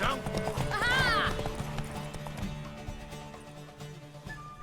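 Horse racing at a gallop in The Witcher 3, its hooves pounding in a quick steady beat. A whinny rises near the start, and the galloping stays up close under game sound throughout.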